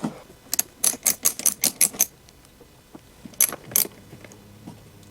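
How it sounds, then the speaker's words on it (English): A 10 mm socket ratchet working the nuts off a small engine's air filter housing gives a quick run of about eight sharp ratcheting clicks. After a pause come a few more clicks, close and alone with no talk. "10 mm socket, and remove air filter housing and inlet hose"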